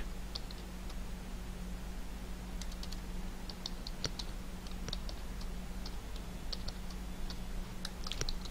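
Someone types on a computer keyboard in a quiet room, with irregular light key clicks in small bursts and pauses over a low steady hum, fairly faint.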